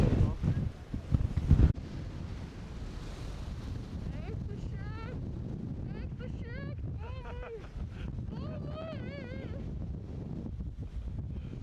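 Strong wind at a ski resort near Zakopane buffets the microphone with loud, continuous rumbling gusts, and after a heavy opening blast it settles into a steady roar, with faint voices and bird-like chirps carried over it.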